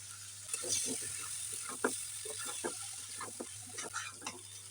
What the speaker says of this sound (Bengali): মাছগুলা খুব আলতো করে নাড়াচাড়া করতেছি এবার আমি কাঁচামরিচ কুচি আর পেঁয়াজ কলিটা দিয়ে দিচ্ছি